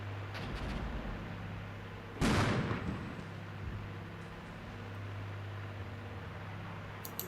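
A single mortar round fired in the Armored Brigade video game, a sharp broadband blast followed by a short decaying rumble, standing out once over a quiet, steady background hum.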